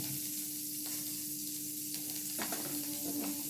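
Fenugreek and cumin seeds sizzle in hot oil with a soft steady hiss, a faint hum underneath and a few light taps near the end.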